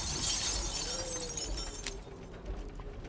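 Glass shatters in Resident Evil Village, a sharp breaking crash up front followed by a scatter of smaller tinkling fragments that fade out over a few seconds.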